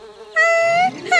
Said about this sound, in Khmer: ឃ្មុំ ជួយផង